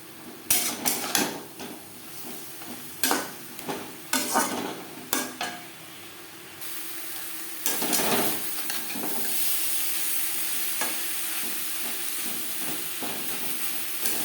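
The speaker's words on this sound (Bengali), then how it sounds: "পেঁপের সাথে নারকেল বেশ ভালো করে মিক্সড করে দেব" Grated papaya and coconut stirred in a pan: repeated scraping spatula strokes in bursts over a soft sizzle and hiss, settling into steadier frying noise later on, no talk.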